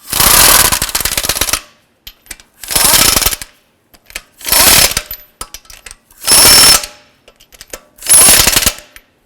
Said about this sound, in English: I'm going to go ahead and snug up these lug nuts.